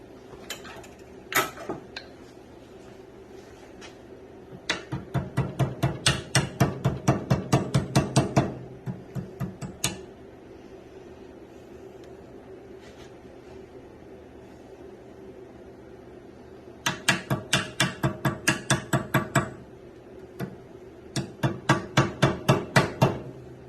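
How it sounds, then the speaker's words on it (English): Rapid bursts of light metallic tapping from a small hammer seating a steering bearing on a Farmall Super A tractor, in several rhythmic runs separated by quiet pauses. "A smaller hammer."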